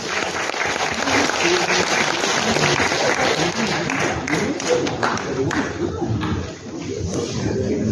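Sustained audience applause fills a National Assembly forum room, dense clapping from many hands at a fairly loud level that thins slightly toward the end, with some speech-like sound mixed in beneath it.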